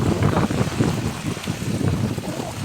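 Floodwater from heavy rain rushing down off flooded fields into a swollen stream, a loud continuous roar and churning wash with wind buffeting the microphone, no talking.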